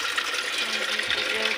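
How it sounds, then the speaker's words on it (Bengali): Water runs from a rooftop tap on a house three floors up, a steady faint hiss of flowing water without pauses. "ছাদে কল আছে আমাদের।"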